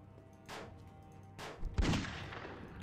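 A .44 Magnum revolver fires in a zombie video game: two sharp reports followed by a heavier, booming shot with a short decaying tail, fairly faint overall, with no voices.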